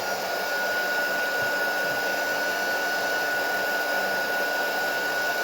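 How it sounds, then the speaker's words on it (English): Heat tool blowing hot air over embossed snowflakes on a craft project, a continuous close, steady whooshing drone with a faint high whine, unbroken and with no talking. "I'm going to grab my heat tool again and just go over this with the heat tool"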